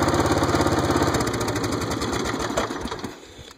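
A small engine on an off-road Snapper riding mower runs close by with a steady, fast chugging rhythm, then fades down as it is shut off near the end.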